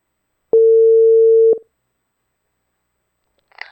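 A single steady telephone ringback tone sounds for about a second while a call is being placed, then the line falls silent before a faint rustle at the very end.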